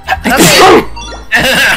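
One loud, close sneeze bursts out with a sharp intake and explosive release. A second short vocal burst follows, and someone speaks a single brief word.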